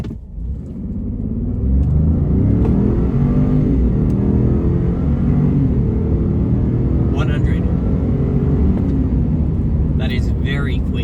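A 2025 Ford F150 pickup truck accelerates hard, heard from inside the cabin as a loud, steady, deep engine roar that rises and holds for the whole stretch, with a few faint clicks near the end.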